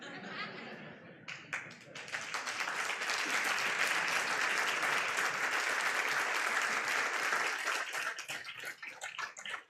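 Conference audience at a fintech event breaks into loud, sustained applause after a brief quieter opening, a dense wash of clapping holding steady for several seconds before thinning out near the end.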